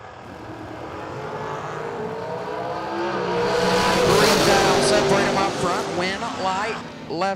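Bracket race cars launch side by side on a drag strip, engines rising to a loud roaring pass under an announcer's voice.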